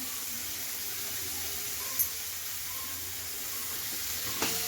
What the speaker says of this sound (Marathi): कांदा छान असा लालसर भाजून घेतलाय मी आता त्याच्यामध्ये मी टाकणार आहे टोमॅटो